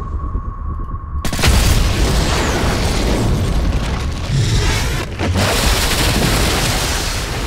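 Loud booming explosions as mines are detonated in the PC game Call of Duty: Modern Warfare 3, a dense continuous roar of blasts and bursts filling the scene after a brief quiet tone.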